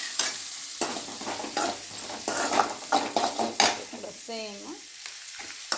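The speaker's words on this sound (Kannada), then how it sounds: "ಈರುಳ್ಳಿ, ಕಾಯಿ ಮೆಣಸು ಮತ್ತು ಬೆಳ್ಳುಳ್ಳಿ ಎಲ್ಲ ಹಾಕ್ಬಿಟ್ಟು ಚೆನ್ನಾಗಿ ಫ್ರೈ" Onion, green chilli and garlic frying in a pan, with crackling sizzle, the scrape and clink of a spatula stirring against metal, and a brief spoken word near the end.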